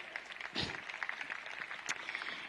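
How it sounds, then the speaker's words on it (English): An audience claps during a plenary session at Malmö Arena, a soft, dense patter of many hands heard from a distance, brief and fairly quiet. "I think that's one worth clapping for because it is a big fight still."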